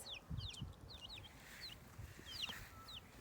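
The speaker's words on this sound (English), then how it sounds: "look at these baby chicks" Yellow baby chicks cheep rapidly, many thin high peeps overlapping close by over a soft, muffled background rustle.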